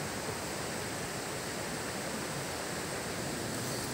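River water flowing in a steady, dense rush, loud and close, with no breaks or voices.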